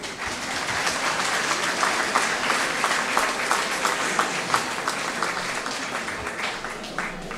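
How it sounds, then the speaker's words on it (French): Sustained audience applause at a live concert challenge in Haiti, dense steady clapping filling the whole stretch with scattered sharper claps, fairly loud and close, with faint voices mixed in. "Mais on l'applaudit quand même."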